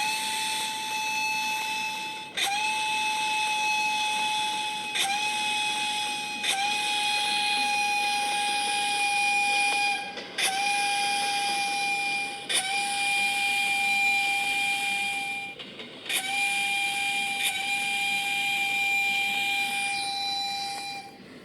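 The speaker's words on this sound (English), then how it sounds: "I'll be doing the steam whistle several times." Steam locomotive 2202 sounds its whistle over and over, about eight sustained, steady blasts with short gaps between them, loud and close with no voices.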